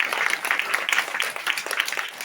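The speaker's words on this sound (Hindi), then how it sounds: "एक बार आप लोग जोरदार तालियां बजाएं" A church congregation at a prayer service and birthday celebration claps loudly together, a dense, irregular burst of applause from many hands nearby.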